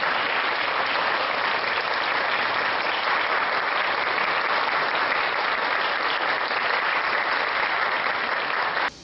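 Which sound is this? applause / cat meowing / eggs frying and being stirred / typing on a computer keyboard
applause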